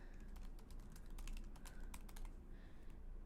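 Quick, uneven keystrokes on a computer keyboard as a folder name is typed, close and fairly quiet, with short pauses between bursts and no voices.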